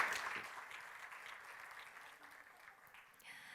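Audience applause at an energy tech summit after a startup pitch on decarbonizing long-haul freight, a faint, distant wash of clapping that starts a little stronger and gradually thins out.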